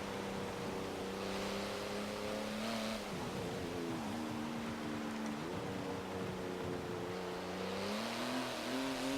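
Race car engine in Forza Motorsport 7, revving through gears with rising and falling pitch sweeps and brief lifts between shifts, a steady loud drone with no talk.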